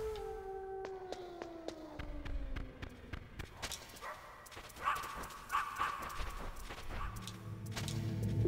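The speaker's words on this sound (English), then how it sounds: "Run away from the dog." A guard dog in the Metal Gear Solid Master Collection howls and barks in short bursts, mixed with falling tones and scattered game noises, at moderate loudness.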